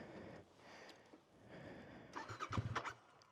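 A Royal Enfield Interceptor 650 motorcycle engine turning over and catching, a low mechanical churn building into a brief burst of firing, heard from nearby but fairly quiet.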